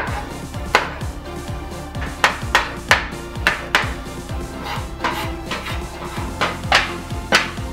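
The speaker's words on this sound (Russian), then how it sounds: "Нужно их прям мелко-мелко нарубить" A knife chops garlic finely on a cutting board, giving a steady run of sharp, close taps in quick rhythm, with no talking.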